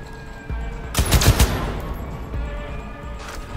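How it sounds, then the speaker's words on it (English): Gunfire from a heavy-recoil gun in the video game Cyberpunk 2077: a loud, rapid burst of shots about a second in, followed by a fading rumbling tail and softer background game noise. "This gun has serious recoil."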